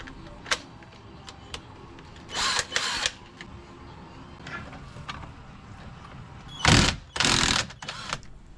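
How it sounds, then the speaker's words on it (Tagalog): An impact wrench loosens a 19 mm nut on the handlebar of a Nwow EMC Golf Pro e-bike, sounding as two loud, rattling bursts a few seconds apart, with faint ticks and clicks in between. "At syempre kailangan natin ng tools na impact range."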